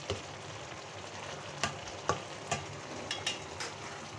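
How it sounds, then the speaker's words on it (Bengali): Ground fennel and cumin sizzling in hot oil in a pan for an egg curry, a steady fry with a few sharp clinks and scrapes from stirring, close and continuous. "ভালোভাবে নেড়ে চেড়ে দিচ্ছি"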